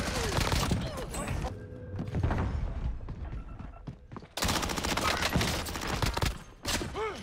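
Bursts of rapid gunfire from the video game Warzone crackle loudly and near, broken by a quieter stretch before the shooting resumes in dense volleys, with a voice speaking briefly among them.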